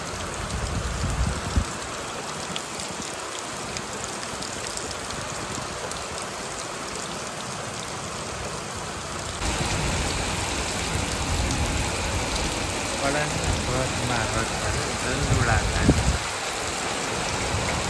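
Heavy rain pours steadily at night in a village near Botad, Gujarat, a dense, close hiss that swells louder about halfway through, with a voice speaking faintly beneath it.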